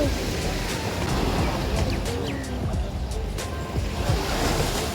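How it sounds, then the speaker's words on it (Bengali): Sea waves wash onto a muddy island shore at high tide, a steady broadband roar of surf close by with wind buffeting the microphone throughout and no voices. "এই যে সমুদ্রের ঢেউ দেখো।"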